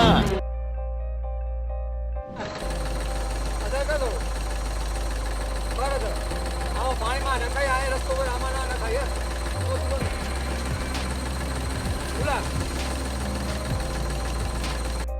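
A heavy tractor engine rumbles steadily throughout, with a deep low drone and knocking texture, loud and close, with some faint voices and clatter over it; the tractor is stuck in a pit of wet mud.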